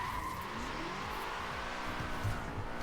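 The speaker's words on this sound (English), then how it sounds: "Let's get into a drift." Car tires squeal and skid through a sustained drift in Forza Horizon 4, with a steady engine drone underneath, loud and continuous.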